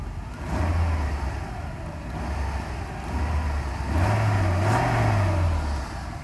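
A Mercedes SL500 engine idles at around 650 rpm, then revs up in a low, rising hum as the throttle is opened during a test of the electronic throttle control module.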